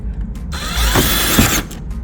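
A power tool with a 10 millimeter socket spins up with a rising whine, runs briefly at high speed, then winds down, close by, while fitting a front lip to a Genesis G70.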